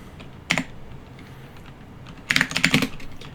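Code is typed on a computer keyboard for an iOS to-do list project, with a short burst of clicking keys, a pause, then a quicker flurry of keystrokes up close.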